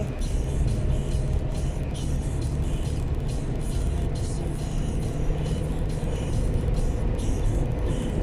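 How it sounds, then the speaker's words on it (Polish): Cars drive past on winter road 384 near Dzierżoniów, heard as a steady, close roar of tyres and engines on the road surface with no break. "sporo samochodów jedzie od strony Dzierżoniowa"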